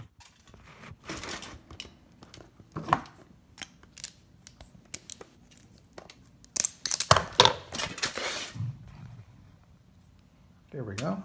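Scissors cutting a drinking straw and aluminum foil while building a small ion craft. Several crisp snips and crinkling cuts come in irregular clusters, with quiet talk in between.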